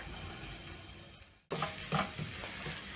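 Onion, garlic, ginger and leek hitting hot oil over a high flame, a quiet hiss that cuts out briefly and then returns louder with a burst of sizzling and stirring, close by.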